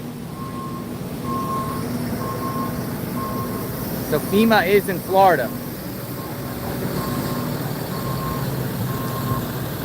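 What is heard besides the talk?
FEMA truck reversing with backup beeps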